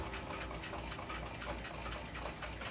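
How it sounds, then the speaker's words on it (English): A watch cleaning machine runs steadily with a clock movement assembly from a Hermle 1050-020 triple chime inside, a constant whirring, sloshing churn close by with no pauses and no voices. "I'll run this whole assembly through my watch cleaning machine"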